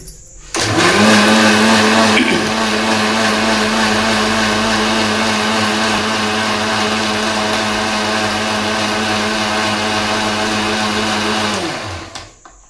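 Mixer grinder blending tamarind water into a spicy crab curry paste, a loud steady motor whir starting abruptly, running continuously for about eleven seconds with a sustained hum, then winding down and stopping.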